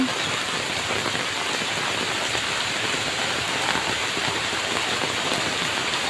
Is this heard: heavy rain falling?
yes